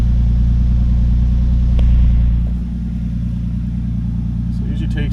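A 2003 Nissan Pathfinder engine idles after a valve cover job, giving a steady low rumble close by that dips slightly in pitch and level after a couple of seconds, with a few faint clicks near the end.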